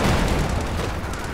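An artillery barrage in the strategy game Company of Heroes 2, a dense continuous roar of overlapping booms filling a short burst at steady loudness.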